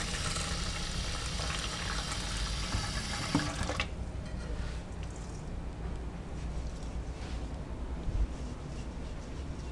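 Tap water runs into a bowl while rice is washed, a steady splashing stream for several seconds, then softer sloshing and swirling of grains in water after the flow stops.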